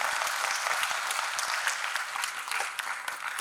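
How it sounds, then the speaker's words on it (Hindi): A university audience applauds in thanks for campus flowers and upkeep, a continuous thick patter of many hands clapping at an even level throughout. "इसके लिए एफओ साहब को ताली बजा के धन्यवाद देंगे।"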